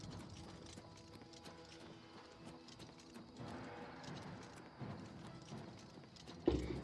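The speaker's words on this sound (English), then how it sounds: "The horse is following me." A horse in the game Oblivion moves with faint, steady clip-clop hoofbeats under low game ambience, and a louder thump comes near the end.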